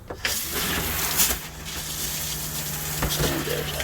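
Cold water running steadily from a tap inside a Jayco X23B travel trailer, a continuous gushing rush at moderate level, with a low hum of a pump underneath and a couple of brief knocks.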